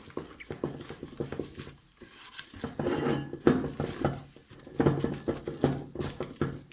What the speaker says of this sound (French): Et là j'ai juste à mélanger avec ma cuillère en bois